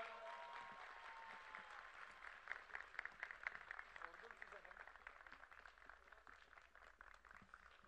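Crowd applause at a political rally for the CHP party in Muğla, Turkey, a steady wash of clapping that continues throughout while someone speaks over it on a loudspeaker.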